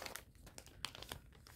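Small one-liter plastic packing bags from a parcel crinkle and rustle up close in a quick run of sharp crackles, with no one talking.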